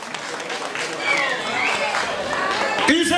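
An audience at a graduation ball party in Mannheim claps and cheers amid crowd chatter, the noise swelling midway and staying fairly loud, with a voice talking over it near the end.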